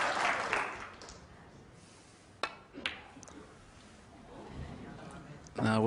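Snooker crowd applause at a professional frame between Ronnie O'Sullivan and Peter Ebdon, a soft spread of clapping that rises at the start and again near the end, with commentators talking over it.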